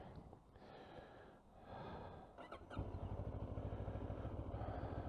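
A 2022 CFMOTO CF650GT touring motorcycle with panniers cranks on its starter and fires up, settling into a steady, close, rumbling idle that continues to the end.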